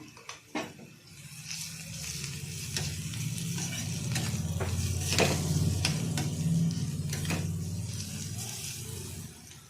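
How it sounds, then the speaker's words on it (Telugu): Onion fries with a little turmeric in a pan for amaranth dal, a continuous close sizzle with sharp scraping stirs of a spoon against the pan, and no voices. "కొంచెం ఉల్లిపాయ ఫ్రై అయ్యింది, ఇందులో కొద్దిగా పసుపు యాడ్ చేస్తున్నా."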